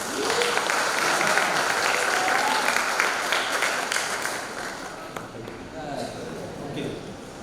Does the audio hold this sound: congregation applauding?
yes